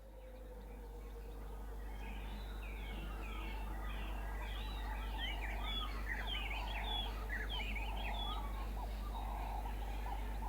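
Birds chirp and tweet in quick clustered bursts over a low steady hum, their calls rising in number partway through.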